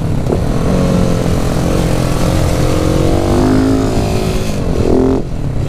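A motorcycle rides through Hamburg's harbour area with a steady, loud engine drone and wind rush, its pitch rising and falling as the rider shifts and accelerates, close and continuous until easing off at the end.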